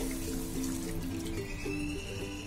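Water, one and a half cups, poured into cooked spice masala for a Bengali pomfret fish curry gravy, a steady continuous trickle and splash lasting the whole moment, close and moderately quiet with no voices.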